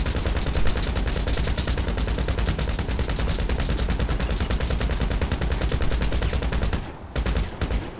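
Rapid automatic gunfire in GTA 5 as a house gets shot up, a relentless rattling stream of shots that holds steady and loud, then cuts off abruptly before a brief final burst.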